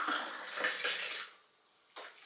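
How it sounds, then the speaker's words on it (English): Freshly boiled water poured from a kettle into a cup, a short splashing stream that fades out, then a brief final trickle. "Kettle has just now been boiled. I'm now going to pour the drink."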